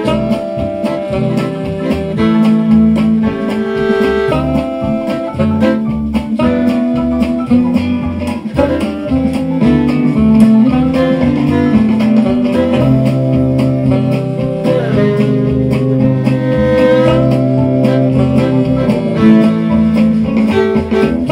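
Fiddle played in a jazzy swing style, a continuous flowing melody of bowed notes over accompaniment, loud and sustained for the whole stretch.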